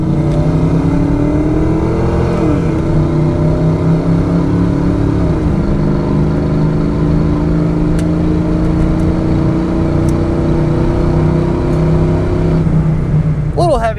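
A 1990 Ford Mustang LX 5.0 hatchback with automatic transmission accelerates hard, its engine note climbing loudly through gear changes from inside the car.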